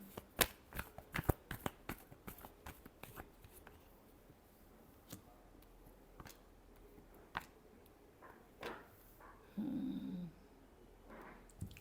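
Tarot cards being shuffled in a quick burst of crisp riffling snaps, then scattered single flicks and a short soft rustle near the end, close and fairly quiet with no talking.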